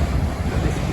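Wild ocean surf breaks below the cliffs at Venus Bay on South Australia's Eyre Peninsula, facing the Great Australian Bight. It is a loud, continuous wash of waves mixed with heavy wind rumble.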